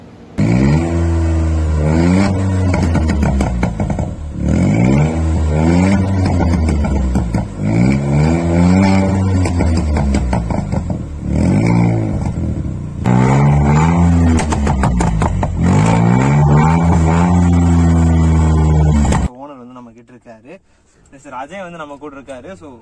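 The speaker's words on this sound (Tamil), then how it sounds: "ஸோ வண்டியோட ஃபுல் எக்ஸாஸ்ட் நோட் கேட்டுருங்க" A 2022 VW Polo GT TSI with a stage 2 remap and a two-channel exhaust revving loudly and up close, its note climbing and falling in roughly five repeated sweeps before dropping back to a quiet idle.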